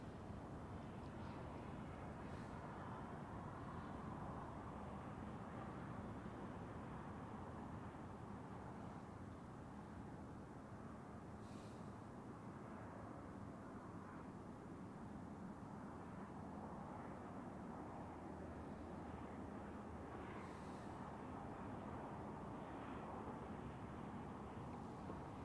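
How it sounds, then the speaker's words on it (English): Turkish Airlines Airbus A321neo from Istanbul at Zurich Airport, a faint, steady, distant engine rumble holding for the whole stretch with no talk over it. "Turkish Airlines with an A321 Neo from Istanbul"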